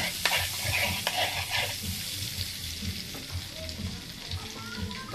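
Butter melts and sizzles in a pan for a dish of sea montis with garlic and onion, giving a steady close frying hiss with light scraping from stirring and no talking.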